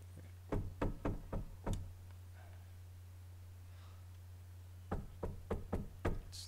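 Knocking on a door in the video game The Quarry: a quick burst of about five sharp raps, a pause of a few seconds, then another burst of five or six knocks, close and clear over a low hum.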